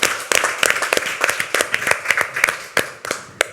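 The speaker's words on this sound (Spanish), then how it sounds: "Otro aplauso," An audience claps at a women's week event in Madrid, with a short burst of sharp, uneven applause lasting a few seconds and no voices over it.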